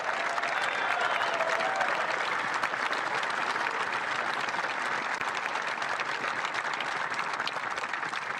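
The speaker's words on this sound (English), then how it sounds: "Everybody's in unison clapping." An audience claps together in a dense, continuous roar of applause that holds at an even level for the whole stretch, with no distinct voices above it.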